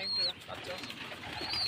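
Ghiyachandi pigeons at a pigeon farm call briefly and faintly, with thin high notes at the start and end over a low background murmur.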